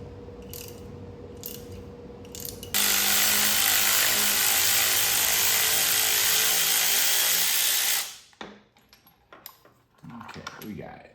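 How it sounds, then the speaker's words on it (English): A crank pulley comes off a 2013 Ford Taurus SHO engine during a teardown, a few light metallic clicks giving way to a loud, sustained burst of a power tool for about five seconds, then scattered clanks and handling noises. "let's go ahead and pull this pulley off now"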